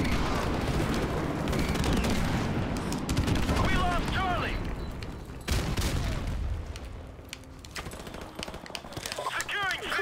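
Constant rattling gunfire and explosions from the video game Modern Warfare Remastered fill a dense, noisy battle soundscape, with voices talking over the shooting throughout.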